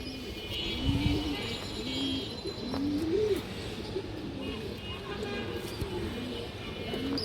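Old-breed Makra pigeons give several low, rolling coos, repeated through the stretch over a steady background murmur with faint voices nearby.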